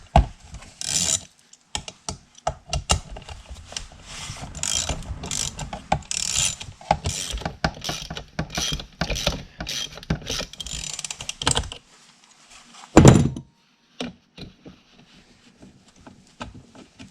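Ratcheting wrench or socket backing two bolts out of a chainsaw during a repair, a series of close, clicking and grinding bursts with short pauses and a sharper clank near the end, no talk.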